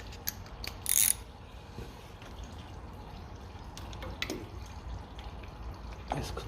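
Starter bolts are loosened on a 1957 Ferguson 35 TVO tractor: a few sharp ratchet clicks and metallic clanks sound close by against a quiet background, with a louder rattle near the start.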